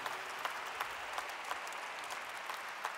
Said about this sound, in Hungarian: Big applause for you.